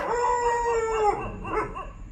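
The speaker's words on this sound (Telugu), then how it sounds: "సారపాక మేడే కాలనీ కుక్కలు, విపరీతమైన కుక్కలు." A stray dog on a village road in Sarapaka's May Day Colony lets out a drawn-out, wavering howl, close and loud, with no voices around it.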